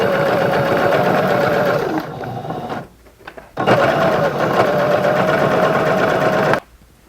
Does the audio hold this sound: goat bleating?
no